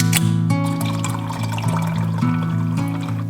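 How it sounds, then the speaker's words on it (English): Olipop soda poured into a glass with a continuous fizzy liquid stream, loud and close, heard over a steady tonal background hum with no talking. "Just poured myself an Olipop."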